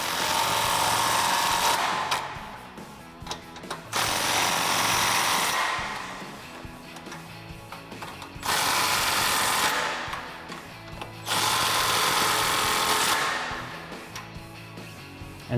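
A 3/8 air impact gun with a 15mm socket tightens exhaust bolts on a 2011-2014 Mustang GT, firing in four loud hammering bursts of roughly two seconds each, separated by quieter pauses and close and loud throughout.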